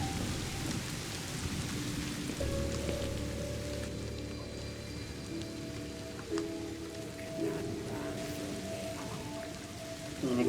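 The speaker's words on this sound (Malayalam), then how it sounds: "പുറത്ത് നല്ല മഴ." Rain falls steadily outside in a video game, a soft constant patter heard from indoors with a low rumble, while faint tonal game sounds and hums run through it and no one speaks.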